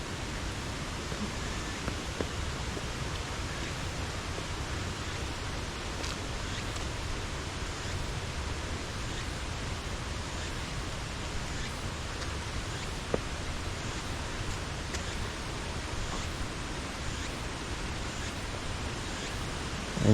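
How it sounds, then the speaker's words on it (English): A river waterfall near a Japanese stone site, heard as a steady, broad rushing roar that fills the background evenly from start to finish with no voices. "you can probably hear in the background there's a gorgeous river waterfall right behind us"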